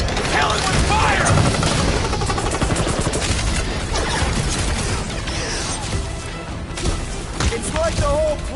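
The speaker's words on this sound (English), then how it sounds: "Rockets! Fireworks!" Rockets and fireworks burst in a video game, a dense, continuous barrage of loud crackling explosions with a few whistling streaks, lasting several seconds with no pause.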